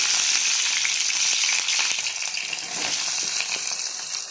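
Chopped onion and green chillies frying in hot oil with mustard seeds, a loud, steady close-up sizzle with occasional stirring scrapes throughout, no voices.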